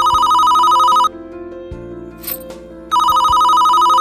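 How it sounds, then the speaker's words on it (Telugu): A phone ringing with a loud electronic tone in two bursts separated by a short pause, close and alone. "ఫోన్ వస్తున్నట్టుంది"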